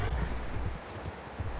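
Soft, steady clip-clop of horse hooves walking on a dirt surface in Red Dead Redemption 2, low and rhythmic, with faint outdoor ambience and no talking.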